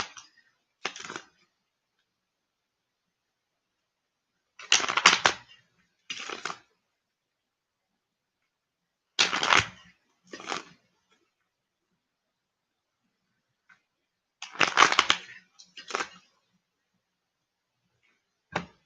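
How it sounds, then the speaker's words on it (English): Playing cards shuffled in several separate bursts, each a brief papery riffle or flutter, close and crisp with quiet gaps between, in a tarot reading setting. "The playing cards are shuffled."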